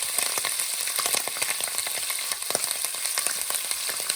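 Green chilies crackle and spit steadily in hot oil in a pan over lowered heat, alongside garlic and ginger for an Indian fish curry, with a dense continuous sizzle and sharp pops scattered throughout.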